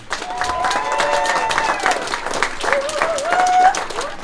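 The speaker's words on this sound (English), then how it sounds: "Let's give this team a round of applause." Audience applause with some cheering for the team at a business academy's 15th anniversary event, a dense wash of clapping under tonal music or voices rising and falling throughout.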